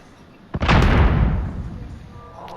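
A launcher firing a spawn tube in Modern Warfare on the Atlas Superstore map: one sharp launch crack followed by a loud, booming rumble that slowly fades.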